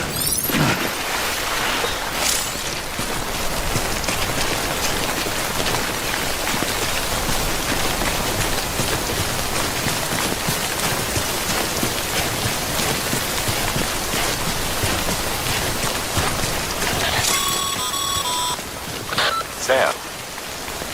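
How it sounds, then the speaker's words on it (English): Steady timefall rain pours down in the Death Stranding video game, a dense continuous hiss lasting throughout, with faint electronic tones and scattered sounds rising near the end. "Don't stay out in the rain any longer than you have to."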